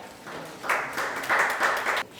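Audience applause for an award winner at a provincial social workers' convention ceremony, a moderate burst of clapping that swells twice over about two seconds before stopping abruptly.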